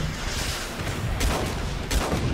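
Dense, continuous gunfire in the video game Guns Up, a loud roaring barrage with a couple of heavier sniper shots standing out near the middle and end.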